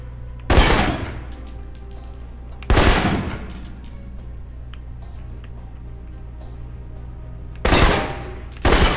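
Assault rifle fire in the video game Alpha Protocol during a training session: four separate loud, sharp bursts ring out with gaps between them, each trailing off quickly over a steady low background hum.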